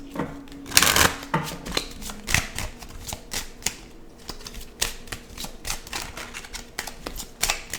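Kipper fortune-telling cards being shuffled by hand in a series of crisp riffles and soft flutters, with a sharp burst near the start followed by quieter irregular card flicks, close up and with no voices.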